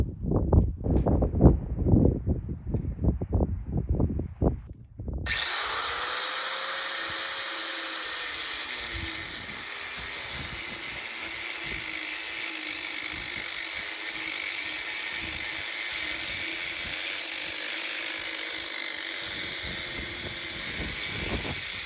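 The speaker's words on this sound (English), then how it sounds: "And then I'm gonna grind it right above that nut." A power grinder cuts threaded rod just above a nut during mud sill work on a mountain home build. Brief low thumps come first, then a loud, continuous high-pitched grinding whine runs steadily for over fifteen seconds, close and alone.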